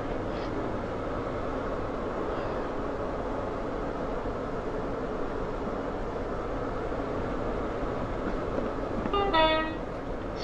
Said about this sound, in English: Same horn sound